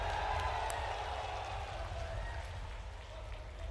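A large crowd at a public rally in Amanganj, Panna, claps in a continuous, dense wash of applause that sounds distant and steady, tapering slightly toward the end.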